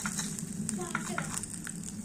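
An egg fries in a small kadai, sticking to the pan with a soft, close sizzle that runs for a brief moment under a child's chatter.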